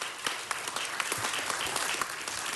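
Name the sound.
applause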